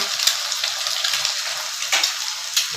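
Spices and egg frying in a pan at home while making chow mein, a steady high hiss of sizzling oil with small crackling ticks throughout, close and alone without talk.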